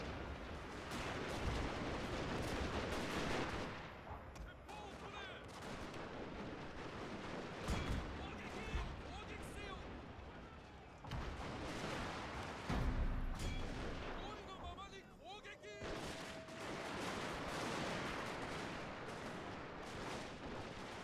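Rifle volleys crackle in a Total War: Shogun 2 battle, a dense, continuous rattle of gunfire and booming impacts that barely lets up.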